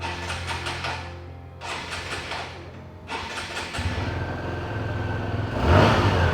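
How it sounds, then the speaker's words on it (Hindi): A TVS Star City Plus 110cc motorcycle cranks in several short bursts, then catches and settles into a steady close idle that rises in a brief rev at the end, with no talking. "अब स्टार्ट कर लेते हैं स्टार सिटी प्लस को"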